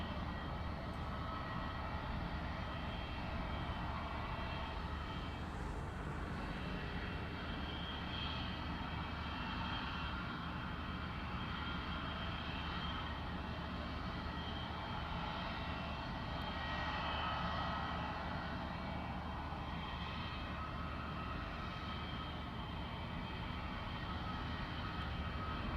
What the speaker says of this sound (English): So the 787 coming in the Dreamliner from the left.